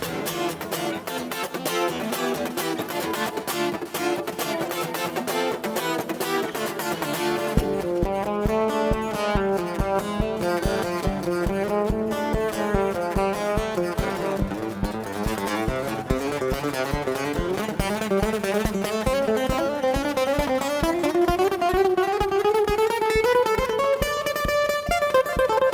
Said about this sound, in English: He pulled the bow across the strings and it made an evil hiss.